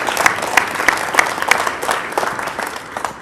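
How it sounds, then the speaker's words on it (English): A school freshman ceremony audience gives a round of applause, steady dense clapping filling the room from start to finish, fairly loud with slight swells. "Give her a round of applause."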